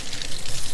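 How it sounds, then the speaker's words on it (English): A kitchen tap running, giving a steady loud hiss of water spray close by with no other sounds. "So now I'm going to turn my water on"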